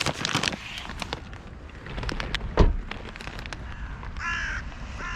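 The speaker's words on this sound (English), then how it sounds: "We got our little crows." Crows caw repeatedly nearby while being fed cashews alongside gulls, giving several sharp, harsh calls over a background of pattering and rustling noise, with no talking.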